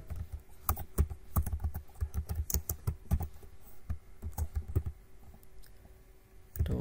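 Someone types code on a computer keyboard, producing close, irregular runs of crisp key clicks with brief pauses and a final burst near the end, with no speech.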